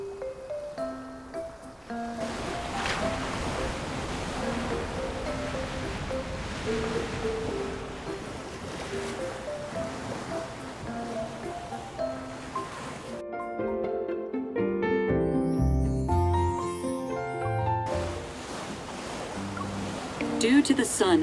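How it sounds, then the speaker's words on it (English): Ocean surf from a video game's coastal scene swells and washes continuously while background music plays, the roar of the waves building gradually in loudness. "The sound of the waves seems to be getting louder."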